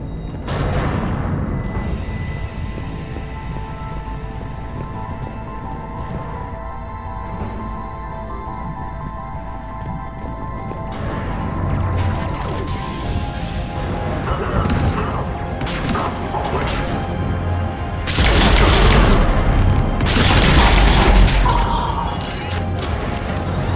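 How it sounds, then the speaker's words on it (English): Cannon fire and explosions rumble through a Mass Effect battle on Omega, with layered booms, crashes and mechanical clatter over a continuous low roar, swelling into louder heavy blasts near the end. "Those cannons have to be stopped."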